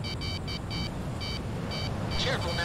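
In the Ace Combat 6 jet combat game, a radar lock-on alert sounds as a series of rapid, high electronic beeps in short bursts, heard over steady engine and wind roar.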